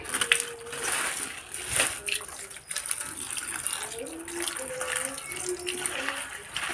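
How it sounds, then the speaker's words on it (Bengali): Fish being washed under running water, a continuous splashing gush from a tap with occasional clinks and knocks of handling, close and fairly loud, with faint voices in the background. "এটাকে বেশ ভালো করে জল দিয়ে ধুতে হবে"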